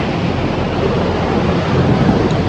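Sea waves and strong wind rushing past during a boat ride off Dubai, a dense, loud, continuous roar of wind buffeting and water.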